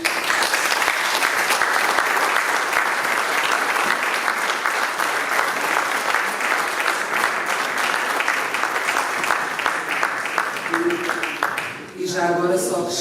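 A seated audience at a talk in Peniche claps in a long, sustained ovation for the speaker. The applause rolls on evenly until a voice takes over near the end.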